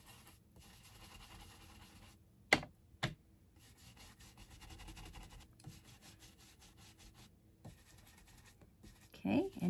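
Steady soft rubbing and scraping of a burnishing tool working color through a stencil mask onto card, continuous strokes with brief pauses and a few sharp taps, close and quiet, no talking.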